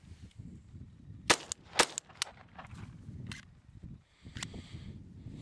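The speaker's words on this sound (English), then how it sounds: "There's another, felt like another light strike." Sharp, faint metallic clicks and snaps from a firearm handling CCI ammunition with light primer strikes, a few quick mechanical clacks at a distance amid quiet outdoor rustling.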